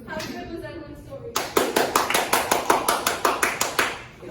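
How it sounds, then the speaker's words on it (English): After a short stretch of talk, a small group claps in a steady, rhythmic beat, about a dozen distinct even claps close by, then fading out. "A show of applause."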